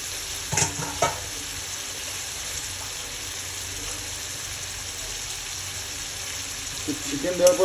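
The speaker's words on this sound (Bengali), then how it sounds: "চিকেন দেওয়ার পর চিকেনটাকে ভালো মতো কষাতে হবে মশলার সাথে।" Chicken frying in a pan with spices for a Bengali-style chicken dish, a soft constant sizzle with a couple of sharp stirring scrapes early on and more stirring clatter toward the end.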